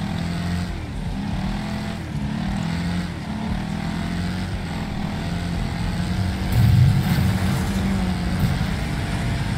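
Buzzing small engine of a racing lawn mower in the demolition racing game Wreckfest, a continuous droning whine with shifting pitch and a louder surge toward the end.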